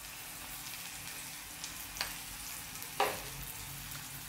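Chopped onion with a pinch of turmeric and coriander fries in oil in a pan, giving a soft, steady sizzle close by, broken by a couple of sharp spoon clicks against the pan.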